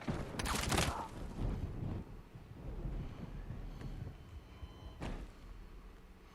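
Gunfire in the Battlefield 6 video game, a burst of loud shots near the start followed by scattered quieter shots and a sharp crack around the five-second mark, with no voices.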